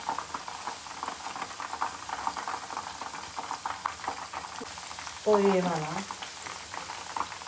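Meal maker soya chunk Manchurian deep-frying in hot oil, a continuous bubbling sizzle with spatula stirring, a voice speaking over it and a brief louder clatter near the end.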